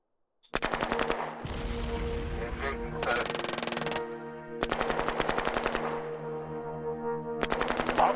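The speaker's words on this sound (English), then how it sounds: "We're taking fire. Requesting backup." Rapid automatic gunfire in the Shadow Empire strategy game, loud rattling bursts separated by short gaps, some with a ringing mechanical tone, heard alone without talk.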